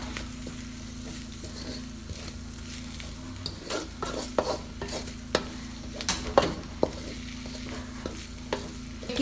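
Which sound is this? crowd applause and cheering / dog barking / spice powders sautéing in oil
spice powders sautéing in oil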